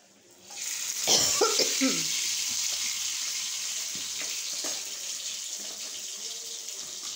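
Masala-coated fish dropped into hot oil gives a sudden loud sizzle that settles into a steady, bright hiss of frying, with faint clinks and a brief voice now and then.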